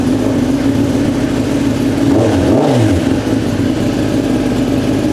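A Kawasaki ZX10R fitted with a Leo Vince exhaust revs loudly and steadily nearby, its engine note rising and falling through a brief throttle swell midway.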